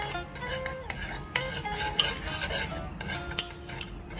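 A spoon stirring fruit cocktail float in a bowl, with repeated scraping and clinking strokes against the dish, close and fairly quiet, in an irregular mixing rhythm.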